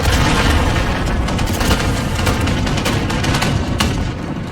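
Dense, continuous gunfire in the video game Call of Duty: Modern Warfare, with heavy booms and rapid bursts, loud and close, filling the whole stretch without a break.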